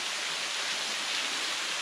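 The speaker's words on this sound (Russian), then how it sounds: "вот под нами водопад." Waterfall in the Khmelnytskyi region roaring steadily below the listener, a continuous broad rush of falling water with no breaks and no talk.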